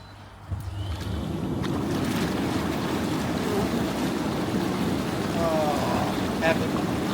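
Water in a backyard hot tub starts bubbling after a short pause, then settles into a constant, close, frothy rush and hiss with no clear break.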